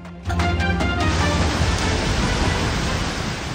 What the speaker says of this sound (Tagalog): Malakas na dagundong ng kulog na sinabayan ng ugong ng malakas na hangin at ulan.